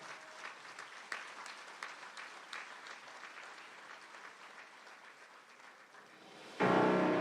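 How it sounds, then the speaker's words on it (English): A crowd applauds steadily at a moderate distance at a mayor's business luncheon, with a sudden burst of loud, harsh noise at the very end. "give a warm, big round of applause for the Veterans Community Village Project"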